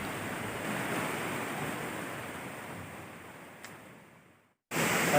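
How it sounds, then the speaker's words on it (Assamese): Rushing water at Kakochang waterfall in hilly Karbi Anglong, mixed with wind: a steady, loud broadband roar that fades slightly, cuts out briefly near the end, then returns. "তো এই শুনিছে পানীৰ শব্দ"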